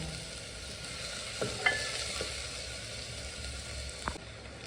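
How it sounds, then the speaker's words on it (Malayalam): Onions or a masala base being sautéed and stirred in a pan for homemade hotel-style chana masala, with a steady close sizzle and scattered scraping taps of a utensil against the pan, no voices. "നന്നായിട്ട് വഴറ്റുക."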